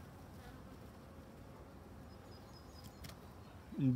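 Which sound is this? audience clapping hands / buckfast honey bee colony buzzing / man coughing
buckfast honey bee colony buzzing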